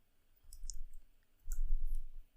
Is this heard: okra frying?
no